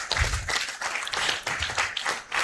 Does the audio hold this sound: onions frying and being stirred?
no